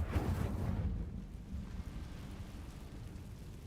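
A fire spell cast in Hogwarts Legacy gives a deep, rumbling whoosh of flame, loud for the first second and then settling into a low, roaring burn that slowly fades.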